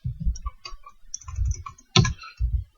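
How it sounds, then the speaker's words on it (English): Typing on a computer keyboard, a handful of soft muffled keystroke clusters with one sharper click, close and alone without talk. "For the first box, I'll type"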